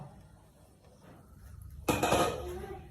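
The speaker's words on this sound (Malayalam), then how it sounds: "നമുക്കൊന്ന് മൂടി വയ്ക്കാം." A lid is set over a pan of oats dosa. One distinct metallic clank lands after a quiet start and is followed by a brief rattle and ringing as the lid settles.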